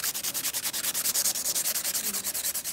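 A sculptured acrylic nail on a plastic practice finger is buffed smooth with rapid, even back-and-forth strokes, a close, soft scratchy rubbing in a steady rhythm with no talking.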